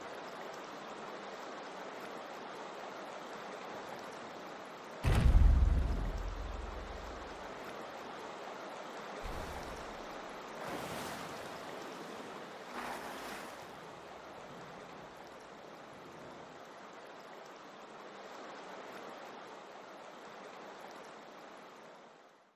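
Water draining away in the video game Wuthering Waves, a steady broadband rushing flow with a brief low thud near the start and a few swells, continuous and moderately close with no talk.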